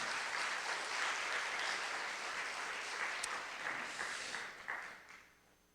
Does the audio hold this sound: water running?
no